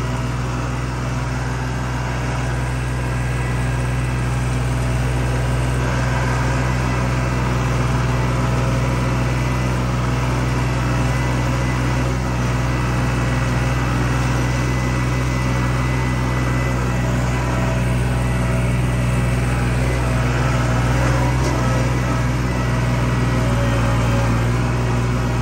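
A New Holland tractor engine runs steadily at idle, a loud continuous low drone with a constant hum and no change in pace.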